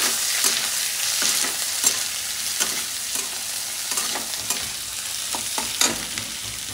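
Onions sizzle in hot oil in a pan while a spoon stirs them, steady frying hiss broken by repeated scraping clicks, close and without speech.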